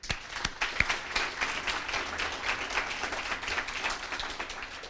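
A crowd applauds at a nursing building gift announcement, a fairly quiet, even wash of clapping opening with a few distinct claps and holding steady throughout.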